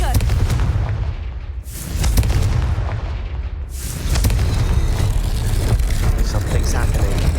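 A Confringo blasting spell explodes in Hogwarts Legacy, a loud booming blast over a heavy rumble, with a second burst a couple of seconds later.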